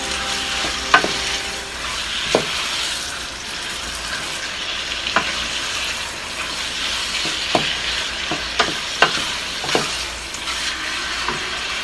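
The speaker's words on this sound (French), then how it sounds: "je vais le faire cuire un peu jusqu'à ce qu'il change de couleur. À un feu moyen pour que ça ne colle pas dans le fond de mon chaudron" Chicken cooking in a pot over medium heat gives a continuous close sizzle, with scattered scrapes and taps from a stirring utensil against the pot bottom throughout. No voices.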